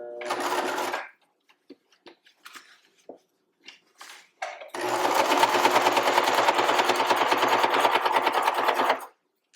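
A sewing machine stitches around the edge of a cloth pocket diaper: a short burst of running, a few scattered light clicks, then a long, steady, loud run of close stitching that stops abruptly.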